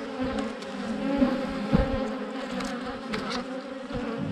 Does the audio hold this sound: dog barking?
no